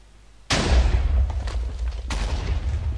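A TNT cannon fires in Minecraft with a sudden loud boom, then a rolling rumble and a second blast about one and a half seconds later.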